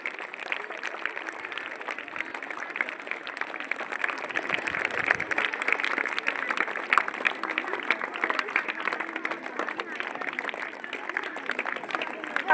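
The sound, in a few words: audience applauding to welcome a guest on stage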